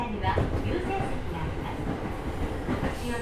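A train rumbles along railway tracks with a low continuous roar and faint rhythmic clatter, close and steady, while people talk over it.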